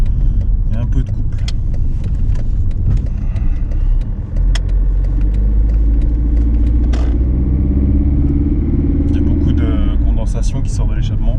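A Mercedes W203 220 CDI diesel with a power loss and a blowing noise drives along. Its engine and road rumble are loud and continuous throughout, with occasional clicks and rattles on top.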